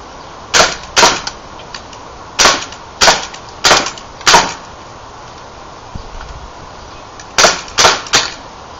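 Nine sharp, loud pops from a Firepower CO2 Thunder airsoft M9 pistol firing BBs, in quick pairs and threes with short pauses between volleys.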